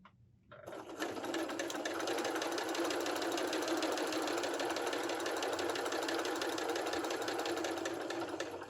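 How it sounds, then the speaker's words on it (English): Sewing machine stitching straight around the lined-up edges of a scrappy quilt block, starting after a short quiet moment and then running in a fast, even, continuous mechanical whir close by. "So we're keeping the edges lined up and we're just sewing straight around."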